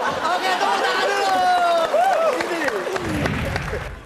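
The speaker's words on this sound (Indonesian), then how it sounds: "Oke, tepuk tangan dulu." A studio audience at an Indonesian TV comedy show claps and cheers, a broad wash of applause mixed with loud whoops and chattering voices from the crowd, rising into denser clapping near the end.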